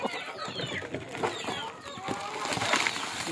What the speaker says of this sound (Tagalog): Native chicken.